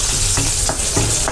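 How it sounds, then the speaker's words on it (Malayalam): Mustard seeds and green chillies spluttering in hot oil, a steady loud sizzle with sharp crackling pops bursting through at irregular intervals. "പച്ചമുളക് ഇട്ട്, കടുക് പൊട്ടിക്കണ്ടേക്ക് കടുകും പൊട്ടിക്കാം കേട്ടോ"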